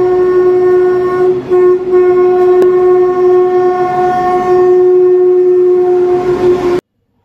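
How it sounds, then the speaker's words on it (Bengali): A loud, sustained train horn blares steadily for several seconds over rumbling rail noise as a train arrives at a platform, then cuts off abruptly. "একটা ট্রেন আসছে।"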